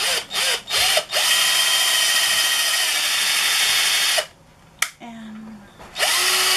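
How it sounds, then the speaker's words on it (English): A power drill bores holes into old wood, its motor whirring in steady bursts with short pauses between, close and loud, with brief speech in the gaps. "now I'm just going to drill right in those"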